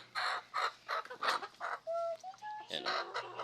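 A four-month-old Rhode Island Red chicken clucks up close in a run of loud, rhythmic bursts, with a few higher tonal squawks mixed in.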